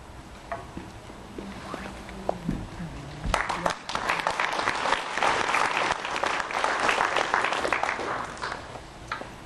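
Scattered claps and a few voices give way to a full burst of audience applause at a West Hills town hall meeting, many hands clapping fairly close and steady for several seconds.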